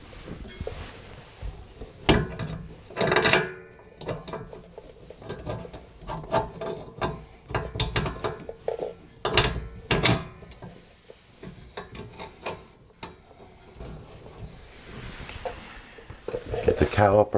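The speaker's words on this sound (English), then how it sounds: "Move on to the reinstalling the nut and bolt for the trailing arm" Nut and bolt on a Pontiac GXP trailing arm are refitted with scattered metallic clicks, knocks and ratcheting taps, irregular and close, with quiet gaps between.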